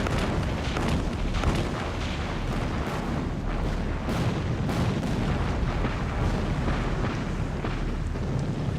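Naval cruiser guns firing at night, a dense continuous roar of heavy booming blasts and rumbling explosions, loud and close.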